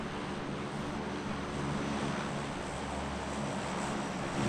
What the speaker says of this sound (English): Damn, loud-ass plane